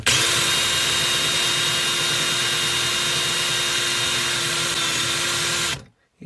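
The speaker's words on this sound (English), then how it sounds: "it's drilling inwards, it's sinking" A power drill bores steadily into stainless steel, a continuous loud grinding whine with a fixed tone that holds for nearly six seconds and then cuts off abruptly into silence.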